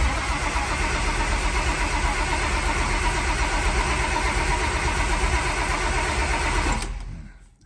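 A turbocharged slant six car engine cranks over on a weak battery, a loud, steady, laboring churn that runs for about seven seconds before abruptly dying away into quiet.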